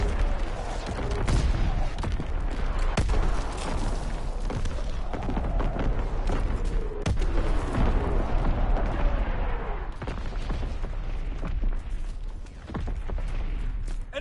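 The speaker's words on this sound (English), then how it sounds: "Incoming enemy artillery!" Enemy artillery shells pound the battlefield in Call of Duty WWII, with repeated heavy booms and sharp cracks over a constant loud rumble of explosions and gunfire for the whole stretch.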